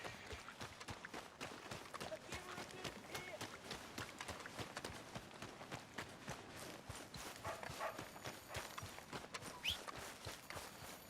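Horse hooves in the video game Red Dead Redemption 2 clop in a quick, steady rhythm, fairly faint, with voices talking over the galloping at times.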